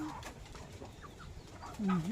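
Young chicken chicks being shut into a pen, giving faint, scattered high peeps, followed by a louder, lower cluck near the end.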